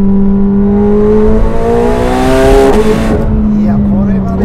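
A 2025 McLaren 750S engine climbs steeply in pitch on a winding road, dips on a quick gear change, then keeps pulling, loud and close from inside the cabin.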